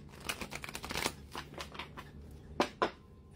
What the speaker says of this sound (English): So one last shuffle